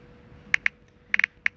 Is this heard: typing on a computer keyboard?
yes